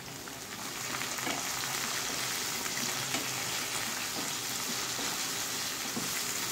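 Finely chopped vegetable stalks frying in a pan on top of a browned spice paste, giving a steady, dense sizzle that holds evenly and fairly close, with no talking.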